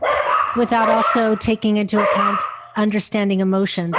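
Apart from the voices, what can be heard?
dogs barking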